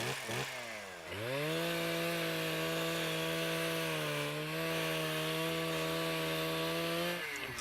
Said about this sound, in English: All right, now the chainsaw's ready.